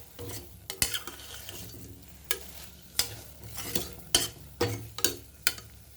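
Lemon rice with doddapatre (Indian borage) leaves being stirred and scraped in a frying pan, giving irregular soft scraping strokes and sharper clinks over a low, steady sizzle, with no talking.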